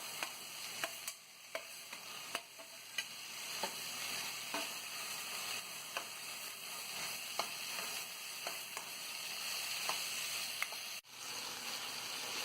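Tomatoes fry in a pan for potato gravy, a steady close sizzle running throughout, punctuated by regular soft clicks of stirring.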